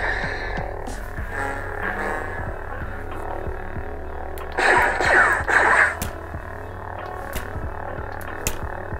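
PhoenixFonts sound font on a lightsaber with unusually quiet volume settings, a low throbbing hum with faint swing swooshes and a louder crackling clash burst in the middle.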